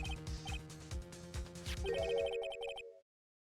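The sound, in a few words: Steel Samurai phone ringtone in Phoenix Wright video game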